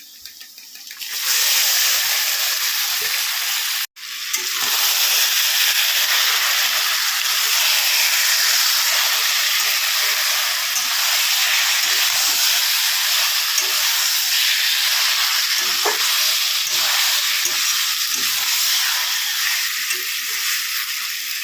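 Marinated chicken lands in hot oil over lightly fried, sugared onions and erupts into a loud, steady hiss and sizzle that continues close up, with a brief break early on and occasional stirring clicks.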